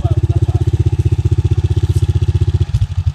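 Off-road motorcycle ride at Tegal Babi, engine loud and close with a fast steady pulsing throb throughout, briefly stuttering near the end.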